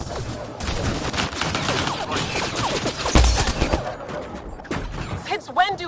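Sustained gunfire in the sci-fi shooter Mass Effect Andromeda, a dense fusillade of rapid shots and blasts mixed with combat effects, loud and continuous with a voice shouting over it.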